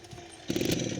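An old 1983 tractor engine in Farming Simulator 17 cranks and catches: a quiet lead-in, then an abrupt loud rattling idle with a rapid, steady chugging that continues to the end.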